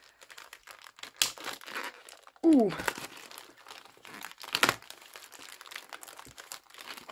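Tough plastic packaging on a craft magazine's card kit is crinkled and torn open close up, with sharp crackling rustles, a brief tearing rip and scattered handling noises, plus a short vocal exclamation.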